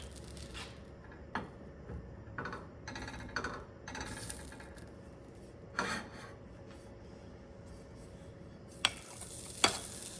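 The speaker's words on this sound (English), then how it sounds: "we will add the onions and the celery, and we will saute that until it is soft" Onions and celery sautéing in melted butter, a soft steady sizzle with occasional stirring scrapes and a few sharper utensil knocks, close and moderately quiet, no talking.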